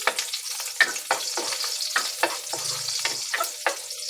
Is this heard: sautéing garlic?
yes